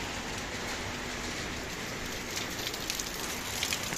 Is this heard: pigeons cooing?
no